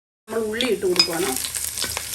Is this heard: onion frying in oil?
yes